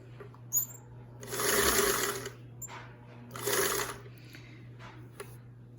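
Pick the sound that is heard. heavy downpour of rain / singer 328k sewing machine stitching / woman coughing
singer 328k sewing machine stitching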